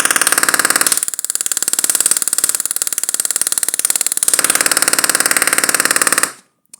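A small Tesla coil runs with a loud, harsh buzzing crackle, rapid and steady, dipping briefly in intensity for a few seconds before surging again and cutting off abruptly near the end.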